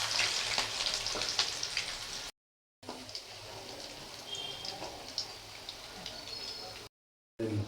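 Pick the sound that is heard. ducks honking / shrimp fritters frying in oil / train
shrimp fritters frying in oil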